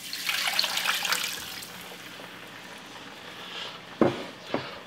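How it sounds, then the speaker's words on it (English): Vegetable broth poured into a pot for vegan white chili, a steady liquid splashing and trickling for a few seconds, then two short splashy knocks near the end, close and fairly quiet with no talk. "I have here 3 cups of vegetable broth. I'm going to add 1½ cups now."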